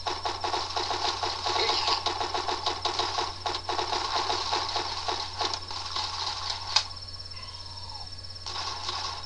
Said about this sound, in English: I do like the sound of the guns reloading.